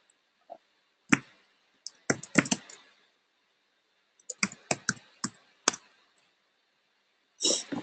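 Keys clatter on a computer keyboard in short irregular bursts of clicks separated by quiet pauses, close and fairly faint, with no voices.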